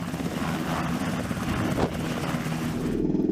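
A military helicopter hovers during a rope insertion over the ocean, its rotor and engine a steady, loud, continuous roar with wind rush throughout and no talk.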